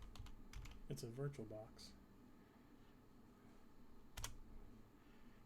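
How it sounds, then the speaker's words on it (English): Soft computer keyboard typing and mouse clicks tap in small clusters, close and quiet, while a person speaks briefly near the start. "Sorry in advance if you do hear my mouse clicks and my keyboard clicks"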